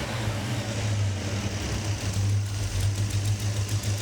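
Car engine fitted with Holley Sniper 2 EFI and Hyperspark running close by, a steady low rumble with a pronounced droning tone and slight swells from throttle changes, no talk.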